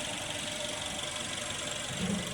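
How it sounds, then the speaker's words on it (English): A Mercedes CLA180 with the M270 engine idling smoothly after thermostat repair, a steady close mechanical hum and whir with an even, continuous tone and no speech. "the engine is running with no problems"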